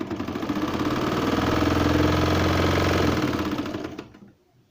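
A sewing machine stitches the buttonhole strip of a baby's summer shirt in one continuous, loud, rapid mechanical run that slows and stops near the end.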